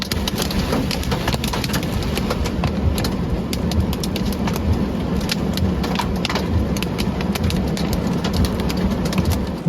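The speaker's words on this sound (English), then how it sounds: "I just didn't want my car to get smashed up with all the hail" Hail pelts a car parked under a small shelter: a dense, loud, steady drumming of impacts over a low engine idle, with no break for the whole stretch.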